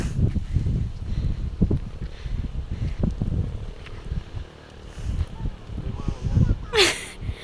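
Gusty outdoor wind buffets the microphone in uneven low rumbling bursts that come and go throughout, with people talking over it.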